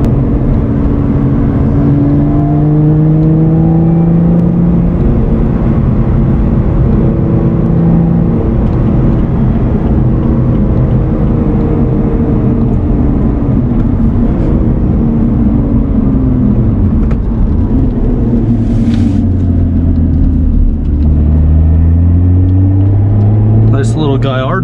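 A 2021 Lotus Evora GT's mid-mounted engine pulls hard from inside the cabin with the windows down, revs sweeping up and down through gear changes, loud and continuous under occasional speech.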